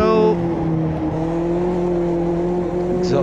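Mazda MX-5 in the Automobilista 2 racing game, its exhaust fluttering and burbling on the overrun with a steady low engine drone, loud and close, with a brief rising note at the end.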